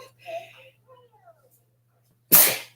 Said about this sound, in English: Here I talk about allergies and then I start sneezing.